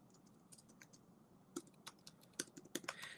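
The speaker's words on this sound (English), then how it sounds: "I'm typing it in over here." Someone types on a computer keyboard nearby, producing soft, irregular clusters of key clicks that come in quick bursts, faint and with no talking.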